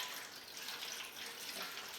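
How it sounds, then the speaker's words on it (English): Apple juice pours into a full-size pan at the bottom of a Bradley smoker, a steady, faint splashing stream that runs without a break and without talking. "We're gonna pour some apple juice in the bottom of this thing"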